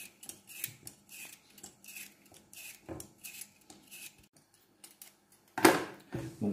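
Potatoes being peeled in a kitchen, a run of quiet, regular scraping strokes followed by a sharper clatter near the end.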